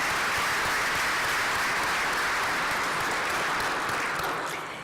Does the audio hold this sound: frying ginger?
no